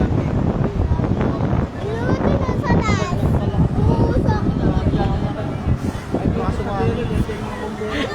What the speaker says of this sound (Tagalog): Ang lakas pa ng hangin